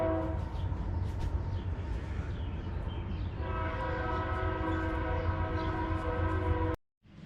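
A train rumbles steadily past while its horn sounds in long, loud blasts over the rolling noise, then cuts off abruptly.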